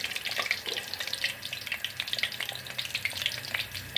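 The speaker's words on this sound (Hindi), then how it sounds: "इस तरह से करके पकौड़े डालेंगे" Hand-pressed spinach palak pakoras fry in hot cooking oil, a dense close crackling sizzle with sharp bubbling pops running steadily throughout, alone with no voices.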